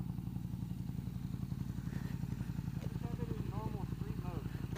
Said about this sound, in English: Jump on the KTM Super Duke.